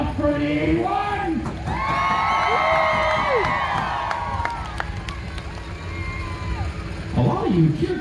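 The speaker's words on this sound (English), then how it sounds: "A lot of you cheered for the same car" Crowd at a best dressed vehicles car show in Huntsville, Ontario cheering for cars, loud sustained shouting and whooping from many voices outdoors, swelling in the middle and rising again at the end.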